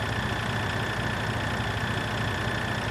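Tractor engine in the video game Farming Simulator 2013, a steady droning hum at constant pitch that stays even and continuous with no talking over it.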